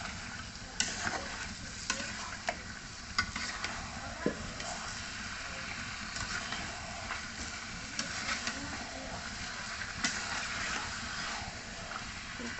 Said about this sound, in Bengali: এখন একটু ভালো মতো নেড়ে চেড়ে মাংসটা ভালো মতো কষিয়ে নেব